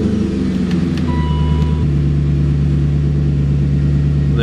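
A 2002 BMW E39 M5 engine, its starter cranking briefly before the car catches and settles into a steady, loud, close idle with a sustained low hum and no talking.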